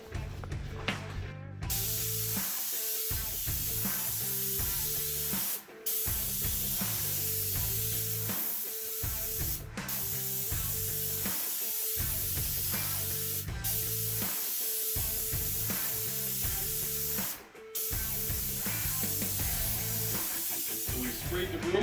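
A paint sprayer gun coats a room's ceiling with a steady, loud hissing spray in long bursts, cut by brief pauses, while music plays underneath.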